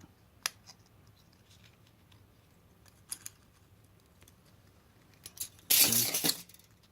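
Scissors snip through the thin metal of a small can to cut off a wedge for an alcohol stove insert: a few sparse clicks, then a loud, crunchy burst of cutting near the end, close up.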